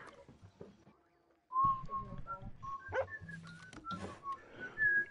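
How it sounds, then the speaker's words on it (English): A dog in the Red Dead video game, giving short whines and whistle-like yelps in a loose, broken run, fairly close and clear, with low background rumble and a brief quiet gap at the start. "Dog."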